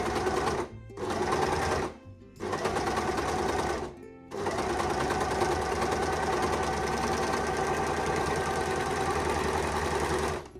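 An overlocker stitches and trims a fabric seam in short bursts, its fast mechanical whirr stopping briefly twice before running steadily, close and loud.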